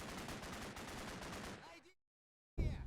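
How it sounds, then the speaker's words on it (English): Grenade explosion in the Combat Mission: Black Sea war game, a dense loud burst of crackling blasts that cuts to silence, then another sharp boom. "That was a grenade"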